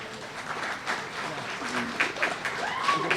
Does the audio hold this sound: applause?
yes